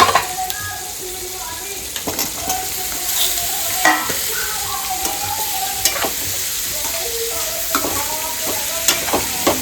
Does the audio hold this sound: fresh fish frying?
yes